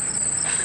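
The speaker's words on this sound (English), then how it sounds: "Just crickets." A crickets-chirping sound effect played as a joke on a gaming news show, a steady high trill, loud and alone with no talk.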